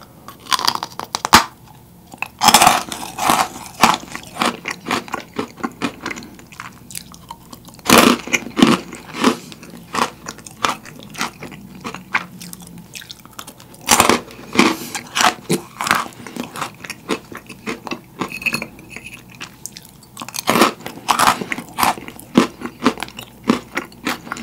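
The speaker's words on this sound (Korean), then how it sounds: "초콜릿 아이스크림을 먹어보도록 하겠습니다." Crisp, brittle crunches and bites of freeze-dried space chocolate ice cream being eaten up close, irregular loud snaps scattered among softer chewing and crackling.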